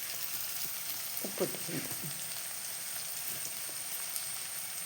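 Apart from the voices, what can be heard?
onions sautéing with salt in a pan for vegetable kurma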